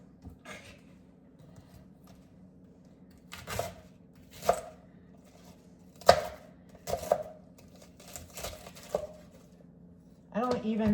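Cabbage is shredded by hand with a knife into a bowl for sauerkraut, making a few separate crisp chopping strokes with long pauses between them, close by, then a louder scraping burst at the end.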